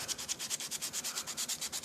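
Rhythmic sanding strokes on a model car body stripped of its chrome, about fifteen quick back-and-forth rubs in under two seconds, close and steady with a bright scratchy texture and no talking.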